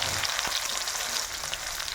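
Pieces of teasel gourd (kakrol) hiss and crackle in hot salted oil, a steady, close, fairly loud sizzle with scattered sharp pops throughout.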